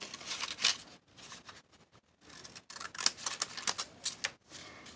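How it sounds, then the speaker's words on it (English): Scallop scissors cutting paper for a junk journal, a run of crisp close snips and rustles at an uneven pace, quiet and with no voice. "So I'm going to take my scissors and I'm going to trim."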